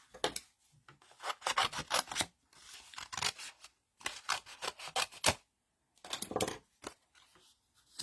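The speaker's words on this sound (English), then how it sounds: "just gonna cut these so that I can get cut a set of these at the same time" Scissors snip through paper pieces for a handmade twisted easel card, a run of close, crisp cutting bursts in short groups separated by brief pauses, with no talking.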